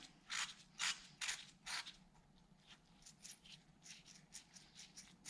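Faint mechanical whirring with rhythmic scraping and rattling pulses from worn bearings spinning on a Toyota 1UZ V8 engine in a Ford Falcon, quiet and close.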